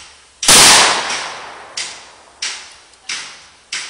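A Ruger Mini 14 rifle fires a sharp, loud shot close by, then four more evenly spaced reports follow, each with a short decaying echo outdoors.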